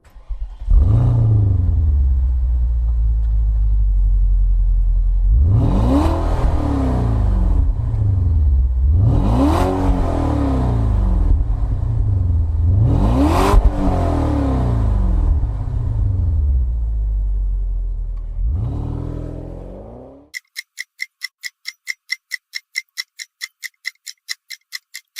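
A Mercedes-Benz car engine revs hard three times in sweeping rises and falls over a low idle rumble, loud and close, then cuts to a rapid clicking tick.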